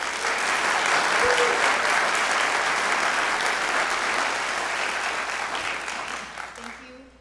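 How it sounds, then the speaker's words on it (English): An audience at a university venture competition final round applauds to thank a family, a broad, steady roll of clapping that gradually fades over several seconds. "Please join me in a round of applause thanking the Stumberg family."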